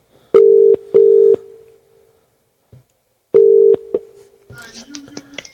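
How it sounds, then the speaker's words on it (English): Telephone ringback tone on an outgoing call to a radio show guest: two long rings with a gap, then a third ring, before faint sounds of the line picking up. "Oh, ringing. That's always a bonus."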